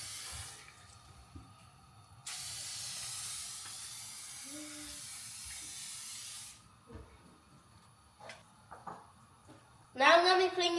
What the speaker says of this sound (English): now I'm gonna be putting inside my spray. This is my cooking spray